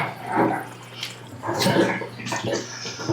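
Water rushing and gurgling as it fills a SICCE Whale 500 aquarium canister filter, a steady close splashing flow with bubbling surges, no talking.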